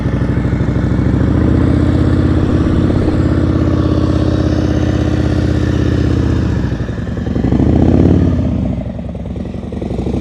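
A motorcycle is ridden at slow speed through tight turns during an advanced riding practice session in Maryland. The engine hums steadily and close by, with a brief throttle swell near the end.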